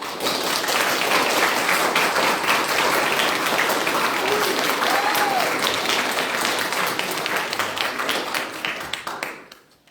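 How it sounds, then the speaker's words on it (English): An audience applauds a newly honored Eagle Scout at a local Scouts ceremony, with steady, fairly loud clapping that holds for most of the stretch, then thins out and fades at the end; a few voices murmur beneath it. "Please give our newest Eagle Scout a round of applause."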